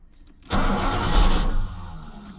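A Mercedes W126 560SEL, off the road for 12 years, cranks and fires after a quiet lead-in, its engine catching abruptly and running loud and rough for about a second before settling to a lower, uneven idle.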